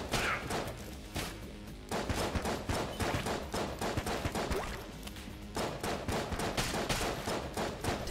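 Rapid bursts of gunfire from the Deckard gun in Enter The Gungeon, a dense run of quick repeated shots and impacts layered with game effects, loud and continuous across the whole stretch.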